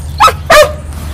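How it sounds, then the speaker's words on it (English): A dog gives two short, sharp barks close by, one right after the other, with quiet room sound between and after. "Wait, when she barks again."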